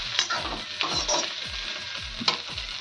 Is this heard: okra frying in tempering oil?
yes